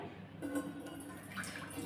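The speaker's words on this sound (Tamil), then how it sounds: "அதில் நாலு கப் அளவு நான் தண்ணி சேர்க்குறேன்" Water splashes and drips into a cooking pot in a brief, steady pour of about four cups, close by, with no one talking.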